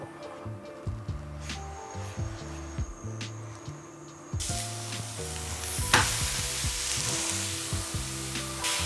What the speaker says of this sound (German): Ich will erstmal schön hier die Burger Patties anbraten.